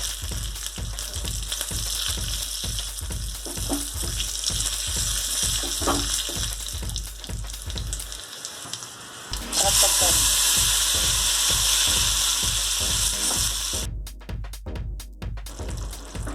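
Cumin seed, garlic and red chili sizzle and fry in hot ghee, a dense continuous crackle with a steady pulsing rhythm of stirring, swelling louder partway through before brief breaks near the end.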